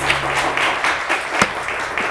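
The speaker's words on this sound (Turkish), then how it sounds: "Alkışlar Sayın Sena Çağan için efendim" Studio audience applause for a contestant on a Turkish word game show, brief bursts of clapping with a few sharper individual claps standing out, heard alone.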